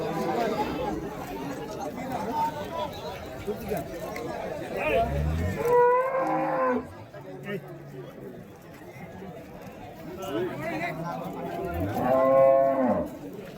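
Native bulls and cattle moo at the Vaniyambadi cattle market, two long bellowing calls standing out over a steady hubbub of crowd chatter and nearby talk.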